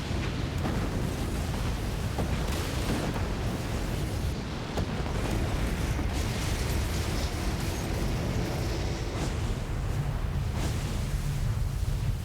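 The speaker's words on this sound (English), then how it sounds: "Oh, he's got rockets." Rocket explosions in the PlayStation game Legend of Dragoon roar as a dense, loud, continuous blast of rumbling noise with crackling bursts, no pauses, no talking.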